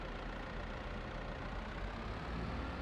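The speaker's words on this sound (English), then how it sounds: "Probably can't hear me over the sound of the tractor." A tractor engine in the Farming Simulator 22 video game drones as a constant, dense rumble. It stays loud and unbroken throughout with no voices over it.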